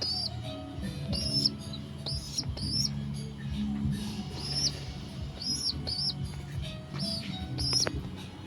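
Pigeons kept at home call in short repeated coos and chirps, moderately close, over a constant low household hum with occasional knocks; no speech.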